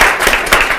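Brief burst of audience applause at a youth talk-show taping, dense clapping from a studio crowd lasting under a second.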